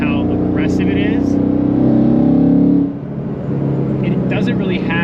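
Ford Mustang GT with its exhaust valves open revs aggressively in a steady, loud drone that holds for about three seconds, then drops to a lower rumble, with someone talking over it throughout.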